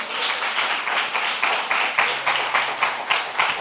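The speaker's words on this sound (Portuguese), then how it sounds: "dá uma salva de palmas para Jesus" A church congregation applauds, with a dense, fairly close clapping and a rhythmic pulse of regular beats running through the whole stretch.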